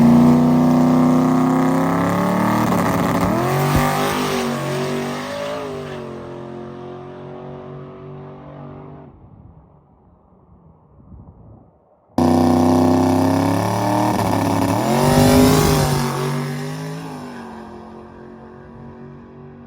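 Boosted race car engine on a drag strip, loud and close at first, then fading with the pitch sliding down, a short lull, then another sharp burst of full power that roars and falls away again. No talk over it.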